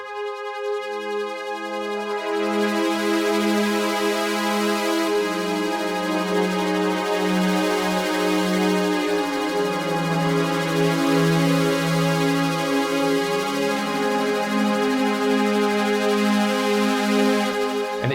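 A Haken Slim21 Continuum plays sustained sostenuto notes, with a low held tone beneath while further notes are played on top, forming a rich, continuous, gliding texture that swells and shifts without any break.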